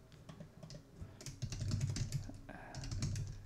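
Rapid keystrokes on a computer keyboard as Git commands are typed during a programming lesson, a steady run of close, light clicks over a low background hum.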